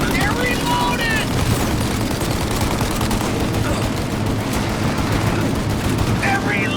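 Dense gunfire in a shootout from Mafia: Definitive Edition, continuous loud automatic bursts and booms packed together, with a voice shouting over the din.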